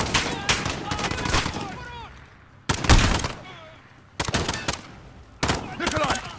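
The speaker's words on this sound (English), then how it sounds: "The gunshots, of course." Bursts of automatic gunfire and single shots from the Call of Duty Modern Warfare video game ring out in repeated loud clusters separated by brief pauses.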